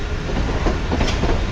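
A train rolls in along main line 2 toward platform 2 at a Pakistani station, a loud, steady broadband rumble with faint rhythmic clatter of wheels over rail joints, close by and continuous with no talk.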